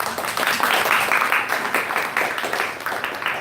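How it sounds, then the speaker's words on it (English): A conference audience at a crypto assets event applauding steadily, dense clapping that holds at an even level throughout with no pauses. "Please give Henry a big round of applause."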